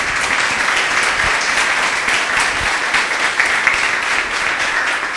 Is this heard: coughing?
no